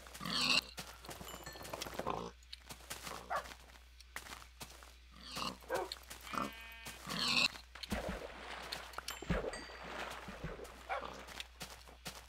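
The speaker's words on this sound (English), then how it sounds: "There's a lot of pigs here." Pigs oink and grunt in a video game, short scattered calls at moderate level recurring over a steady game backdrop with other bursts between.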